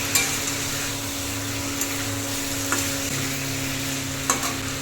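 Ghee sizzling and frying steadily in a pan for a vegetarian parwal and potato curry, with a constant close crackle, a faint low hum and a few soft clicks of stirring.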